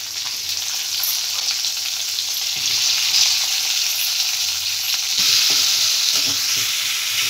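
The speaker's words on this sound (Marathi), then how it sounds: "मी आता कांदा घालते, उभा चिरलेला आहे।" Sliced onion frying in hot oil with cumin seeds makes a continuous bright sizzle, loud and close, with occasional soft scrapes of stirring and no voices.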